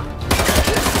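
Rapid gunfire bursts from the Spider-Man 2 video game, a loud, dense volley that kicks in abruptly after a quieter moment and continues steadily to the end.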